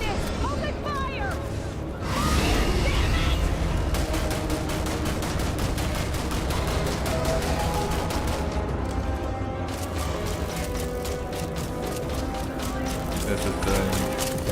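Rapid, sustained gunfire in the space game Starfield rattles on in dense automatic bursts, loud and close, with a brief lull near the middle before it continues.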